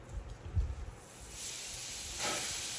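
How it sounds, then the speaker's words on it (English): Ground beef hamburger hitting a hot pan, a soft hiss that swells into a steady sizzle and then brightens again near the end, heard up close with no talking. "I want you to listen to see if you can hear my hamburger sizzle when it hits the"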